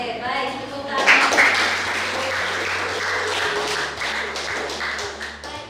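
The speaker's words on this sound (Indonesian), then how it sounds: "Tepuk tangan." A classroom of students claps hands together, a loud burst of many claps that then carries on at a steady level over a low hum, with a voice faintly present early on.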